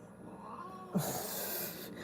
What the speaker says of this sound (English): I got my new cats. We're going at it.